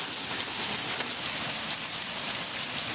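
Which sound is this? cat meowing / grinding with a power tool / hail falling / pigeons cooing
hail falling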